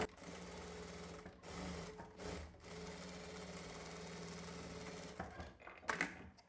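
A sewing machine stitches a fabric face mask, running steadily with short pauses and restarts, loud and close, with no talk over it.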